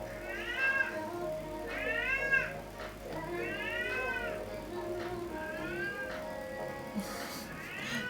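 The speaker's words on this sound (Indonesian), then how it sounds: "Kucing lapar nggak lapar guys, dia emang suka kayak gitu." A hungry, talkative cat meows repeatedly in a series of rising-falling calls, fairly close, with a faint voice in the background.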